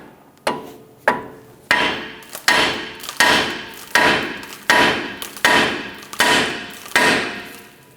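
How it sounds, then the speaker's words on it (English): A hammer strikes a steering knuckle on a 1997-2006 Jeep Wrangler to free the tie rod end, about a dozen sharp metallic blows at a steady, quickening pace, close and loud with no speech. "we're going to go ahead and strike the knuckle here"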